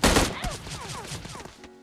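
Battle royale gunfire opens with a loud burst and then crackles on in rapid shots off to the right side, fading toward the end.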